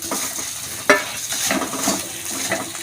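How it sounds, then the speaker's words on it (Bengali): Fried onion and boiled potatoes for a filling being stirred in a pan, giving a steady close sizzle broken by repeated scraping strokes of the spatula. "সিদ্ধ রাখা আলুগুলি দিয়ে দিলাম পুরটা বানানোর জন্য।"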